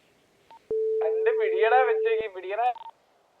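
A phone call being dialed in a GTA roleplay video game: a short beep, then a steady electronic ringing tone lasting over a second, with someone talking over it throughout.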